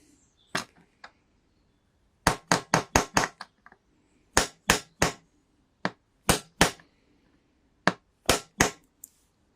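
A hammer strikes in sharp metallic knocks, single and in quick clusters of three to five, while a Moto Guzzi V85TT pannier is fixed, close and loud in otherwise quiet surroundings.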